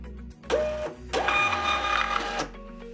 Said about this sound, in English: Tap on Print to send the label to the printer.